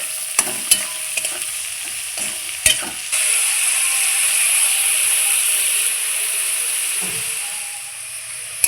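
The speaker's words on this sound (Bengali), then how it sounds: "আলু ভাজাগুলো আমি ভালোভাবে নেড়ে নিচ্ছি" Potatoes fried with salt and turmeric powder being stirred in a pan, a steady close sizzle broken by a few sharp clicks of the spoon against the pan, with no talking.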